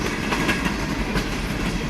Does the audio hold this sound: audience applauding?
no